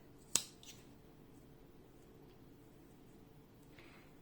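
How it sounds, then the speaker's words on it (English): A single sharp snip of scissors cuts small leftover yarn ends from a tiny crocheted pumpkin appliqué, close and crisp, followed by quiet room tone and a faint rustle near the end. "there is only some small yarn ends left, and I am cutting it"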